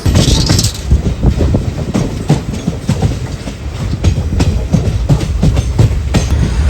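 A passenger train rolls along loudly with rhythmic clickety-clack of wheels over rail joints and a constant rumbling hum, heard from inside an uncrowded general compartment in Kerala.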